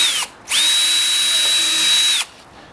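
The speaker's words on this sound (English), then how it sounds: "we'll drill a small pilot hole" A power drill drilling a small pilot hole whines briefly, stops, then runs again at a steady high pitch for nearly two seconds before cutting off, loud and close.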